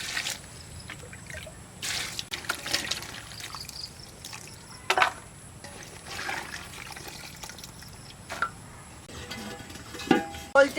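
Chopped snake gourd being washed, with water trickling and dripping, occasional splashes and clinks of pieces in a bowl, fairly close and moderately quiet.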